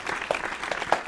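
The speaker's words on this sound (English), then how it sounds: "Are we supposed to clap for ourselves, Gary?" Studio audience applause on a talk show fills the moment, dense steady clapping at moderate level throughout.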